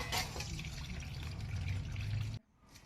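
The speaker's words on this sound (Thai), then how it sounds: "เราก็จะ กรองเอาน้ำออกนะคะ" Water pouring off soaked sago pearls through a strainer, a steady rushing splash for about two seconds that then stops abruptly, close and fairly loud, with no talk.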